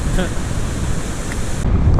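Steady, roaring wind buffets the microphone throughout on an exposed farmland stretch of the Southern Upland Way near Lauder, Scotland, with a broad rumbling hiss and no voices.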